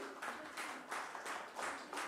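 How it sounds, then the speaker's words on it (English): Audience applause at a pets event breaks out in several swelling bursts of clapping, moderately loud and steady, with no voices over it. "Please give them a big hand, ladies and gentlemen"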